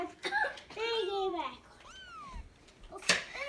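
A baby kitten gives several thin, high meows, close and fairly soft, with brief voices and a child's babble around them indoors.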